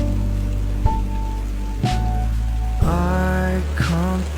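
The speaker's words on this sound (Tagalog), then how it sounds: "Grabe, ang lakas ng ulan." Heavy rain pours steadily and loudly from start to finish, with a few harmonic beeping or tonal sounds on top of the downpour.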